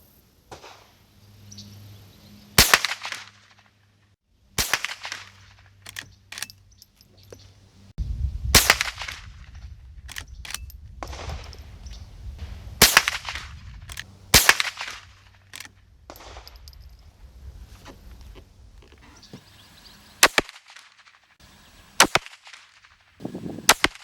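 A rifle fires CCI .22 Quiet rimfire rounds outdoors, a dozen or so sharp, faint cracks spaced a few seconds apart, with quiet rustling and handling noise between shots.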